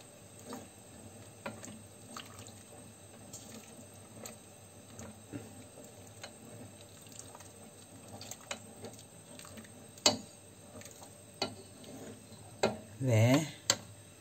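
A spoon stirs pea stew in a pot after hot water is added, making soft, irregular scraping and clinking taps over a quiet kitchen background. A brief louder rattle comes near the end.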